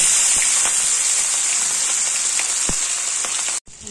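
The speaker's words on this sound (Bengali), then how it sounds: "এবার ইলিশ মাছগুলো লাল লাল করে ভেজে নেব।" Hilsa fish pieces fry in hot oil with a loud, dense, steady hiss and crackle close up, running unbroken until it cuts off abruptly near the end.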